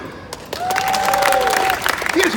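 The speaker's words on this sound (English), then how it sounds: "this lot go crazy with applause" Audience applause at a live show, a steady wash of clapping from a crowd with a few cheers, running for about two seconds under a faint whistle-like tone.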